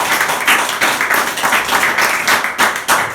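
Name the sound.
applause from the congregation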